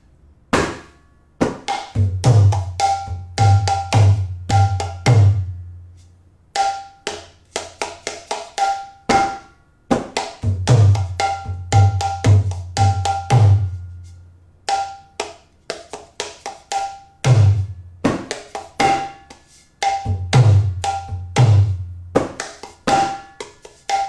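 A kirtan hand drum plays a repeating rhythmic pattern of deep bass strokes and sharper slaps, looping in steady cycles with brief pauses, played up close.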